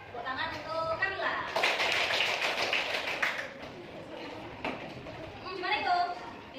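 A classroom of students claps for a classmate in a short burst of applause, with a teacher's voice talking before and after it.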